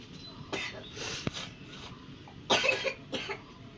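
A young child coughs in several short bursts, with quieter breathy gaps between the coughs, heard close up indoors.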